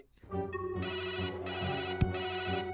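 A phone ringtone plays a repeating electronic melody, moderately loud and close, with one sharp click partway through.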